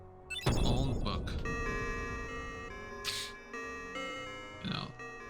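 Bell chime in the Kingdom Hearts video game: a bright, ringing tone at the start, with further shimmering chimes that ring on over sustained synthetic music and fade out.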